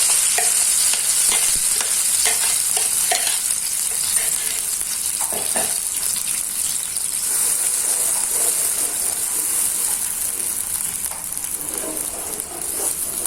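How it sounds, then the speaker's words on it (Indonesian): Spice paste frying and sizzling in hot oil in a wok, with steady bright hiss and repeated scraping stirs of a spatula throughout, close and fairly loud. "Untuk bumbunya saya tumis dulu."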